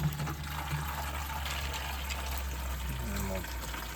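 Water running from a garden hose while mixing daily liquid feed for a giant pumpkin, a steady wash of flowing water with a low hum underneath, fairly close and continuous for the whole stretch.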